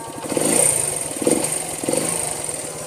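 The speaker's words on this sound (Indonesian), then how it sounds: "kita hidupkan, kita engkol sekali, itu pasti hidup. Dan mesinnya halus banget mesinnya kayak tepung." A 1973 Honda CB 125 motorcycle engine running close by with a smooth, even idle and a few gentle blips of revving, alone without speech.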